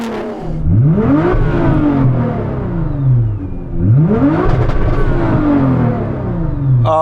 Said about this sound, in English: So I'm going to rev up this tuned GTR.